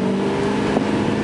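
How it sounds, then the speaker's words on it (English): A tuned 2010 Ford F250 Lariat Supercab FX4 with a 6.4 diesel engine drones steadily at about half throttle, a loud, close and continuous rumble with no voices. "the best thing about this truck is that's about half throttle"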